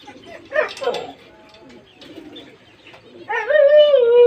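Domestic pigeons let out soft throaty coos, a few scattered calls at first and then a louder, sustained bout of rolling cooing close by.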